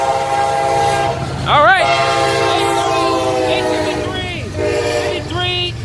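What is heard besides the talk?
CSX freight train passing with horn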